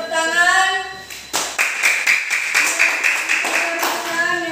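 A classroom group claps for the third team, a burst of sharp, fairly close handclaps starting after a speaking voice and continuing steadily.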